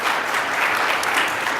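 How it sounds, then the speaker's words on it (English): Audience applause for Dylan at a talk, a dense wash of many hands clapping steadily and loudly for the whole short stretch with no voices over it. "Let's give Dylan a big round of applause as well."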